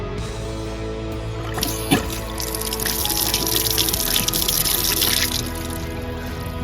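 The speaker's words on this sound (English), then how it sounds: "let's turn the water on and see if we have any seepage" Water runs steadily from a faucet just refitted with a replacement cartridge, a continuous splashing hiss into the sink that swells slightly partway through, close and fairly loud, with no talking.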